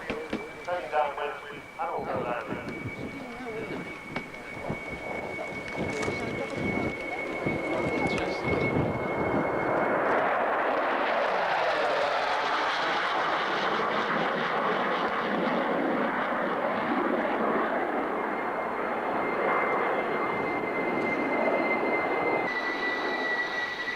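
A Fat Albert aircraft's engines swell from a distant drone into a loud, sustained roar that dominates the second half, with voices talking over the quieter opening.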